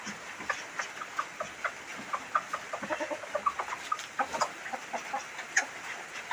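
Chickens cluck in a rain-wet farmyard alongside ducks and pigeons, a steady run of short, close clucks repeating irregularly throughout with no talking.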